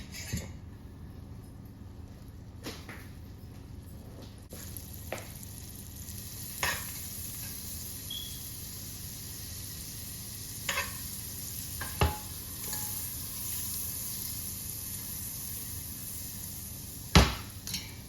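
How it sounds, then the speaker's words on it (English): Butter melting in a frying pan while catfish is prepared, a quiet, steady sizzle that runs throughout, broken by occasional clinks and knocks of utensils against cookware. "So now let's put our butter, or like I usually say, butter, over in there."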